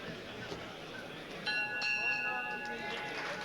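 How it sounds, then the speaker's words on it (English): The final bell of a professional boxing match rings out in a couple of bright clangs over the crowd noise and the commentator's voice. "that's the boy from Stirling, Hugh Collins, as we come to the final bell"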